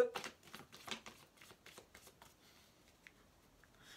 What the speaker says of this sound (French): Je vais rebattre parce que je l'ai vu celle-là.